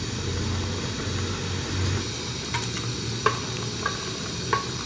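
Ground masala being stirred into mutton curry in a pot, with a soft, steady sizzle and a few sharp scraping clicks of the spoon near the end.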